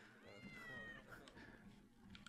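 A cat meows faintly backstage at a talent show, giving a drawn-out mew followed by softer calls over quiet room noise.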